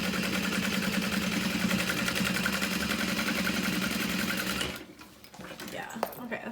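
A sewing machine top-stitches a handbag with a steady, rapid mechanical whir that runs close and loud for several seconds, then stops abruptly, leaving a few faint handling noises.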